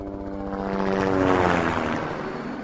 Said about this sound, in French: Un hélicoptère survole l'école.